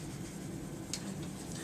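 A pencil rubs graphite onto a mousetrap car axle, making a soft, continuous scratching with a faint scrape near the middle, quiet and close with no talking.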